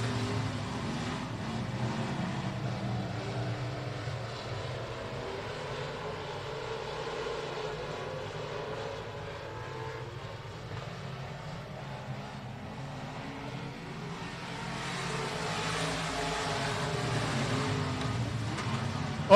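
USRA Limited Modified race cars circle a dirt oval at Rocket Raceway Park during a heat race, their engines a steady, loud rumbling roar that swells and fades slightly as the pack passes, with no talk over it.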